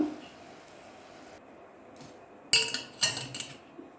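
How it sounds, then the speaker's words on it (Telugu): Melting jaggery stirred in a pan, quiet at first, then a few sharp metallic clinks and scrapes of a spoon against the pan near the end. "చూసారా అలా కలుపుతూ ఉండాలి బెల్లం కరిగేంత వరకు"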